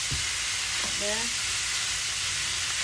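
Sandwich sizzling steadily as it warms in a preheated pan, a dense continuous frying hiss with a brief word spoken over it.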